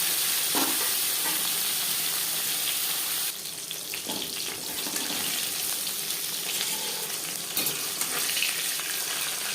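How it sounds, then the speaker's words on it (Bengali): Tilapia fish frying in refined oil, a dense steady sizzle and crackle from the pan with a few louder spatters and the clatter of a utensil, no voices. "প্রথম ব্যাচে মাছ ভাজা হয়ে গেছে।"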